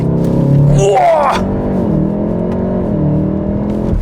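A VW Golf 7 R with a Stage 1 tune accelerating hard from a standstill, its engine revving and rising in pitch through a gear change, loud and close from inside the cabin with a driver exclaiming over it.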